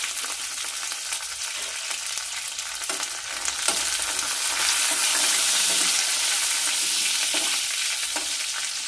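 Seasoning fries in hot oil in a pan and is stirred while cooking for a wood apple and coconut chutney. A steady, close sizzle carries a few scraping stir strokes and swells louder midway, with no talking.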